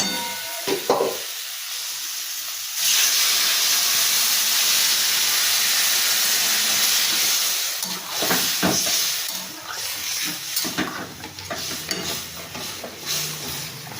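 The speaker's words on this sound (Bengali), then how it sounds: "এবার আমি পরিমাণ মতন জল এতে দিয়ে দেবো" Water poured into sizzling, fried spice paste for a Bengali fish curry with eggplant, setting off a loud, sustained steaming hiss that holds for several seconds and then settles into uneven crackling and stirring.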